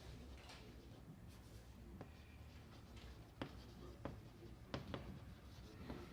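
Pen or marker strokes on a surface while a math lesson is being written out, faint scratchy scribbles with a few sharper taps and strokes spread across the stretch, quiet and close.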